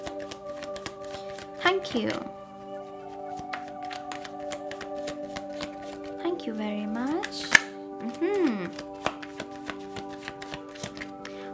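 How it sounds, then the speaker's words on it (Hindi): Tarot cards being shuffled by hand, a steady run of close, fast riffling flicks lasting several seconds while someone speaks briefly over them. "तो चलिए शफल कर लेते हैं ऑप्शन 1 के लिए"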